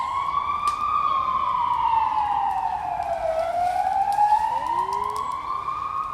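A wailing ambulance siren sweeps down and back up in pitch as it passes nearby, steady and loud over traffic rumble.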